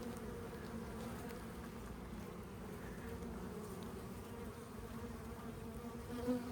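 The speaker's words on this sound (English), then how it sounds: "we look for, it's called queen retinue, a bunch of bees going and" Honey bees buzz in a continuous, close, droning hum during an open colony inspection, a thick swarm-like texture that holds steady throughout with no talking.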